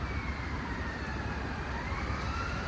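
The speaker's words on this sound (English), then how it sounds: "It is loud here though, like a police car after police car" A police car siren passes along a city street near a covered ironwood bench bolted into the pavement, a steady wailing tone over constant loud traffic rumble, with no one speaking.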